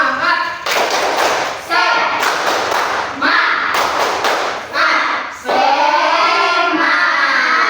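A classroom group of students performs the tepuk semangat clapping chant, loud rhythmic bursts of hand claps and thumps in several rounds separated by short pauses, with voices chanting along.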